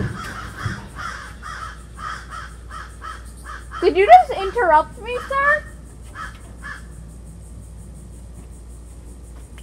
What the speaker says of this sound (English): those birds over there just interrupted me